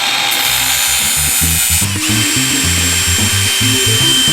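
An angle grinder or similar cutter works through an old aluminium screen door frame, a loud continuous whine with a grinding, rattling low-end texture that shifts as the cut progresses, heard alone and close.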